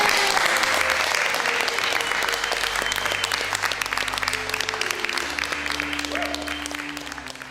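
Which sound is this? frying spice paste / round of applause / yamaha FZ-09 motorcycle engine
round of applause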